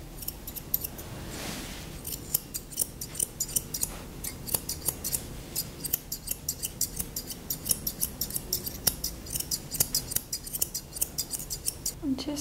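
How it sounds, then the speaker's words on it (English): Scissors snip steadily in rapid, repeated clicks while trimming a dog's hair into a rounded shape during grooming, close and fairly quiet with no talk. "using the tips, I'm just going to scissor them off, so this creates a nice round blend"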